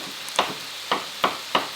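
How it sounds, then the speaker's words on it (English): Knife chopping taco ingredients finely on a cutting board: four crisp, separate chops at uneven intervals, close and fairly quiet, with no talking. "I like to chop it up a little bit more fine."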